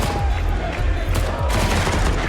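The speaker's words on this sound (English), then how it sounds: "Lots of shots coming through. But that Deagle killing 2 more." Counter-Strike gunfire, Deagle shots among it, cracks out in a fast, dense burst of overlapping shots during a match on the Nuke map, loud and continuous over a short stretch.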